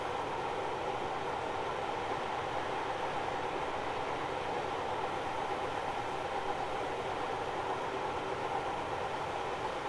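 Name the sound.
train wheel flange squeal in video game Train Simulator 2020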